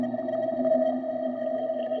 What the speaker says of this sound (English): we're into this kind of eerie, spooky texture now